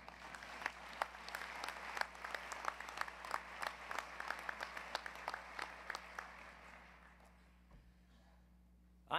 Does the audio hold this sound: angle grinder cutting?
no